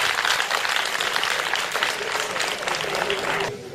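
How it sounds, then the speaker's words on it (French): A crowd at a meeting between an NGO foundation and local authorities applauds the foundation, with dense, lively clapping throughout that cuts off sharply near the end. "Applaudissez pour la fondation, s'il vous plaît."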